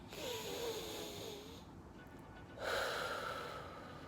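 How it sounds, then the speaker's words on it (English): One person takes a slow deep breath, a long airy inhale followed by a fuller, slightly louder exhale, close and quiet with nothing else around it. "Take a deep breath with me because I need to take a deep breath."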